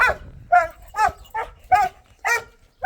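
A dog barks in a series of sharp, close barks, about six of them at a steady pace, with short pauses between.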